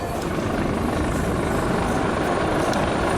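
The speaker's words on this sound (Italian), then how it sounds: "dell'elicottero, che è il rumore più dolce e melodioso che si possa ascoltare" Loud, steady rotor and engine noise from an HH-139 helicopter close by at the Jesolo Air Show, a continuous heavy thrum with no pauses.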